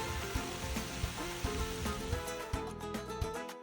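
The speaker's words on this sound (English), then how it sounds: "You'll want to cook your veggies until most of the liquid is gone" Vegetables for fajita quesadillas cooking down in a pan, a steady close sizzle and hiss running throughout with occasional soft stirring knocks, no talking.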